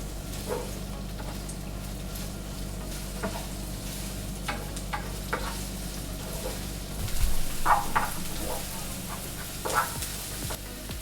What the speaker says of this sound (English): Put a couple of tablespoons of oil and stir-fry shallots until softened